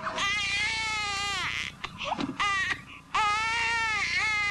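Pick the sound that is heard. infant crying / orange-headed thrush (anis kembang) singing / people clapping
infant crying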